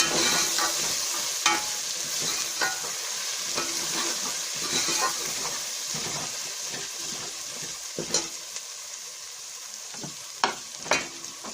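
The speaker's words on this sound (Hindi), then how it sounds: "लहसुन को थोड़ी देर भून लेंगे।" Garlic paste frying in a pan: steady close sizzling and spitting, broken by sharp scraping stirs every few seconds, with no voices.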